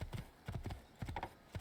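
Horse hooves clip-clopping in Assassin's Creed 2, several quick groups of two or three hoofbeats spaced out over a short stretch, close and fairly quiet with no talk over them.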